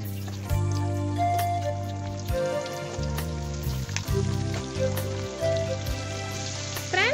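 Catfish pieces fry in hot oil, a steady loud sizzle and crackle that continues throughout with no talking.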